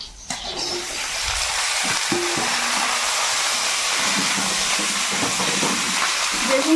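Eggplant and potato sizzle in hot oil in a pan with chopped green chilli, onion and crushed garlic, a steady loud hiss holding throughout with faint clatter underneath.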